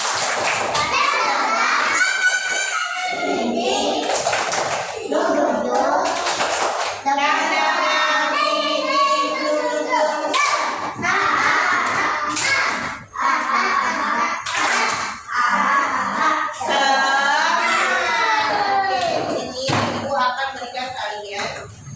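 Schoolchildren in a first-grade class at an elementary school in Palembang perform the rhythmic 'tepuk semangat' clap, loud, close chants and claps mixed with young voices throughout, with sharp clap bursts scattered among the singing.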